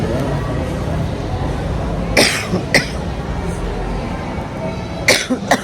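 A few sharp coughs burst out over steady background noise and murmuring, two near the middle and a cluster near the end.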